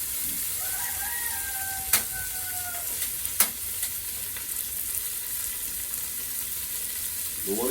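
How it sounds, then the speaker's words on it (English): Food sautéing with ginger in a pan at a backyard cooking setup in Guyana, a constant crackling sizzle with a few sharp utensil clicks, and a rooster crowing faintly in the background. "While this is sauteing nicely, some ginger."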